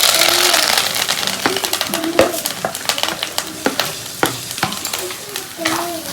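Food sizzles in hot coconut oil in a pan, a steady bright hiss broken by sharp clicks and scrapes of a stirring spoon, close and fairly loud.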